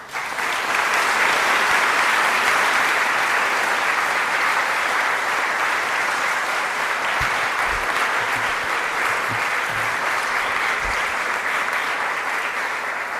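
An audience at a Palm Beach civic association annual meeting claps steadily and loudly for the town mayor, a sustained, even wash of applause from a full room.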